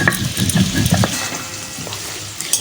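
Potatoes frying in a pan with oil give a steady, close sizzle with a few stirring scrapes early on, settling into a softer continuous hiss.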